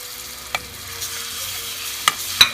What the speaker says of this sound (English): Do a little stir.